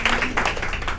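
Audience applause, a brief burst of dense hand clapping, close and fairly loud, steady for about a second.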